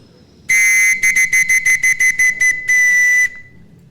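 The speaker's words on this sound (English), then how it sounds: "they used to get a whistle like this" A shrill police whistle blows loudly in a long blast, then a rapid run of short staccato toots, ending with another sustained blast.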